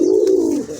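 A male pigeon lets out a single close, clear coo, a low throaty note that bends and fades within a second, with no other sounds around it.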